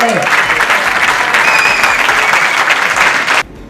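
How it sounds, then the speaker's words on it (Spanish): A big crowd applauds at the Barcelona Beer Challenge 2017 awards welcome, loud dense clapping and cheering sustained throughout before cutting off abruptly near the end. "Bienvenidos al Barcelona Beer Challenge 2017. ¡Aplauso grande!"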